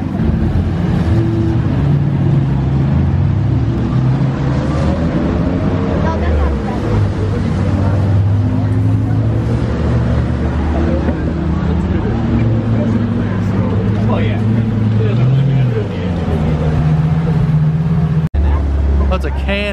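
A green new Bentley GT drives past during a supercar gathering, its engine a loud, steady rumble that swells and fades amid crowd chatter and other passing traffic.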